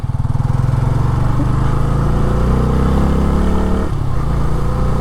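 A Bajaj Freedom 125 CNG motorcycle engine runs steadily and loudly up close during a ride and U-turn, a constant throbbing drone that dips slightly as the bike slows and then picks up again.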